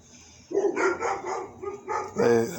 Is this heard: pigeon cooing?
no